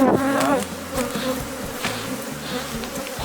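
Honey bees buzz steadily around an open, heavily populated beehive during colony splitting, the dense insect drone close and continuous with shifting pitch, no voices over it.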